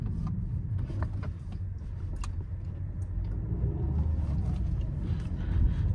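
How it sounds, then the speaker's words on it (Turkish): Studded winter tyres on a car rolling down the road give a steady low rumble and roar with faint ticking, continuous and close from inside the cabin, with no talking. "Sadece üzerine kaşıklı lastik olduğundan dolayı bir lastik sesi var."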